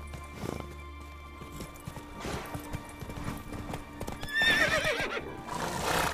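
Roach, Geralt's horse in the video game The Witcher 3, neighs and whinnies with hoofbeats under the game's music, the loud whinny rising near the end.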